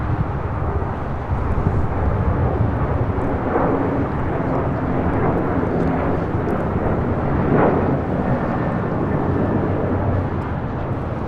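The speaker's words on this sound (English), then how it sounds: "This is United Airlines 783 taking off to Washington Dulles on a 737-800" A United Airlines Boeing 737-800 takes off at Los Angeles International Airport bound for Washington Dulles, its jet engines producing a loud, sustained, broadband roar that holds steady throughout without talk.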